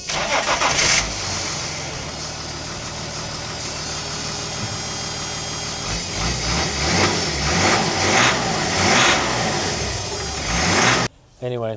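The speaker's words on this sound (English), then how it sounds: "let's start the car" A VW LT31 campervan with a swapped M57D30 diesel engine and Bosch 044 fuel pump cranks and catches, then settles into a steady idle with slight rises in revs before cutting off abruptly near the end.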